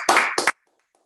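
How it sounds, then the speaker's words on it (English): A short burst of applause from a small group at a workshop, about half a second of clapping followed by a brief second burst, then quiet. "You've gone for a round of applause."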